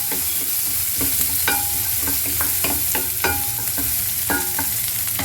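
Onions and garlic sautéing in a pan with a steady loud sizzle, while a utensil stirs and scrapes in repeated sharp strokes throughout, close and without speech.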